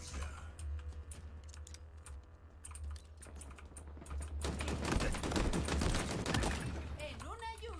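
Rapid burst of video-game gunfire, a dense rattling volley of shots that swells loud mid-clip over an ongoing low background drone, with a speaking voice present.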